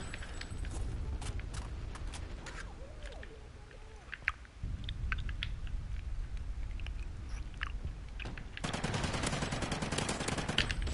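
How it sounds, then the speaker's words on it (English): Gunfire in the video game Call of Duty Ghosts: rapid sharp bursts and scattered shots at low level, building to a dense sustained volley near the end, with a faint voice in the background. "I just shot you in the face."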